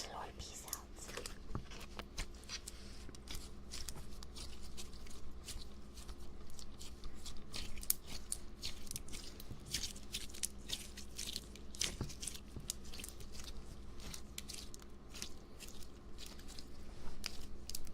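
Crunchy slime being kneaded by hand, a steady stream of close, faint crackling and squishy pops under soft whispering.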